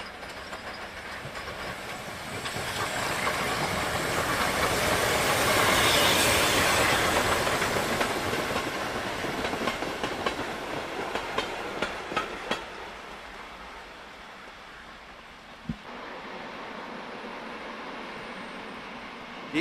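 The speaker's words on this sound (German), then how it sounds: "Der Personenzug nach Sonneberg fährt jetzt runter." Steam passenger train running downhill toward Sonneberg in wintry Thuringia, heard from a viaduct as a broad rushing hiss and rumble swells, peaks and fades, with a run of rhythmic wheel clicks as it passes.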